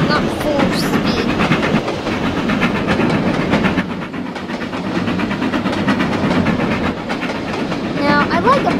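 An LMS Duchess class 4-6-2 steam locomotive in the Trainz railway simulator game rolls along steadily, with continuous rail rumble and rhythmic clickety-clack from the wheels.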